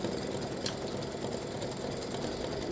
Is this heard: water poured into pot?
no